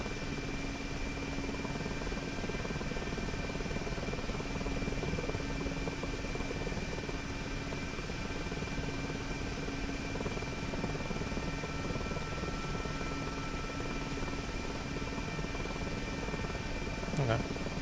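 An Mi-8MTV2 helicopter in flight in the DCS simulator, a steady droning rotor and engine hum with a constant whine, unchanging and even throughout.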